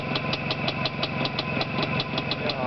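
A motorcycle engine with a new chain and sprockets runs steadily up close, a throbbing idle with regular rapid pulses and a bright rattling top, loud and alone with no talk.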